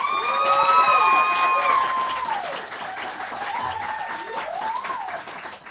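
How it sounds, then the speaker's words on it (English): An audience applauds and cheers for an author at a booksellers' reading event, a fairly loud burst of clapping that swells in the first two seconds, then settles into steady applause with whoops and cheering voices throughout. "Let's give Belle a huge round of applause."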